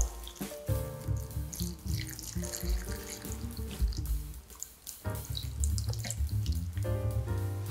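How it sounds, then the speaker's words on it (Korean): Kimchi brine is poured over sliced cucumber and paprika for spring water kimchi, giving a continuous close splashing and trickling of liquid with short pauses and drips. "김치 국물은 그대로 부어주세요"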